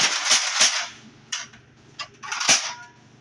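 A toy Nerf gun is pumped and fired, giving a handful of sharp, close plastic clacks and pops spaced irregularly over a few seconds, with quieter mechanical shuffling between them.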